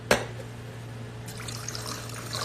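Canned rosé wine is poured into a glass, a soft close trickle and fizz following a sharp opening tap, faint and without talk.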